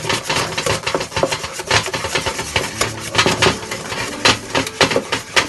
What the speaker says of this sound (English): To this we add the powder sugar and mix it a little